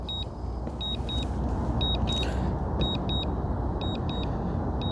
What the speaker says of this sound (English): Auto returning to home, that's what that beeping sound is